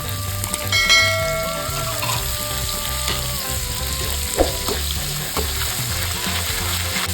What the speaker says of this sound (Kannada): ಇವಾಗ ನಾನು 2 ಮೀಡಿಯಂ ಸೈಜ್ ಈರುಳ್ಳಿನ ಸೇರಿಸ್ಕೊಳ್ತಾ ಇದ್ದೀನಿ.